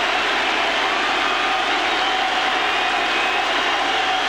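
A packed Yankee Stadium baseball crowd cheers and roars in one broad, sustained wall of noise at a 1998 Rangers–Yankees night game, steady and loud throughout with no voices standing out.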